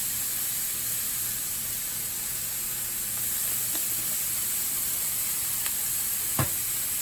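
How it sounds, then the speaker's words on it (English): Burger patties fry on a hot surface, giving a dense, steady sizzle and hiss throughout with a couple of faint clicks and one sharper tap near the end; no speech. "Throw my patties on there."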